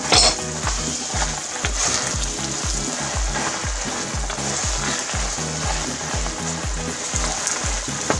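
Purple biko sticky rice cake being stirred in a pan over low heat, a loud, continuous scraping and sloshing with a regular stirring rhythm close up.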